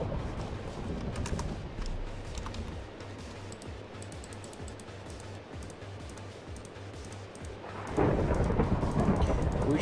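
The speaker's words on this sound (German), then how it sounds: "Blitz. Hast du es gehört? Da ist irgendwo einer eingeschlagen" A thunderstorm in the game Minecraft Tekkit: constant rain hiss with deep rolling thunder, building into a louder, brighter crash toward the end.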